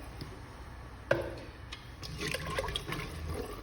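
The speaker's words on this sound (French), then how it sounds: "Et je vais recouvrir le tout d'eau." Water poured into a pot of caramelised chickpeas for couscous, a soft splashing fill that starts after a small knock and continues quietly.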